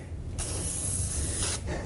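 A broad hiss of aerosol lubricant sprayed onto a lightly rusted spring of a Stair Master 4000 stepper, one steady burst lasting about a second, close and loud over faint low rumble.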